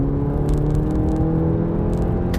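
A VW Golf GTI TCR with a 2-liter turbo four-cylinder and DSG gearbox, set up for the track, drones steadily from inside the cabin while driving, a low even engine and road rumble with faint clicks over the top.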